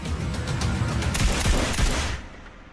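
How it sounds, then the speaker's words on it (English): A rapid burst of gunfire crackles through a film scene of an assault on an embassy, many overlapping shots packed densely together for about two seconds before cutting away. "Shots fired in the embassy."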